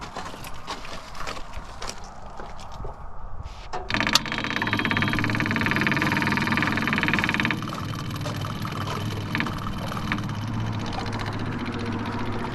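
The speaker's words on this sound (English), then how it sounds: "You'll hear the fuel pump run." A steady mechanical whir and hum from the fuel pump of a Kubota KX033-4 excavator runs for several seconds after a key-turn click, over the low rumble of heavy machinery.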